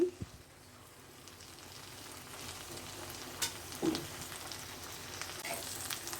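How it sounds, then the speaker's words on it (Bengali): Fried eggs and vegetables sizzle in a pan over medium heat while being stirred, a soft, continuous crackle with a couple of brief utensil scrapes and taps partway through. "এখন ডিম দেওয়ার পর আমি আবার একটু নেড়ে দেব।"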